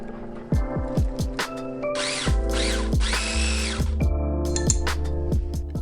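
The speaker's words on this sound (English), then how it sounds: "chop up the peppers coarsely with a food processor" A food processor coarsely chopping chili peppers in loud, close pulses, the motor whirring up and down in short repeated bursts with no talk.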